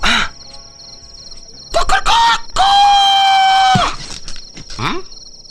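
A person imitates a rooster, with a few short vocal bursts and then a long, drawn-out crowing call.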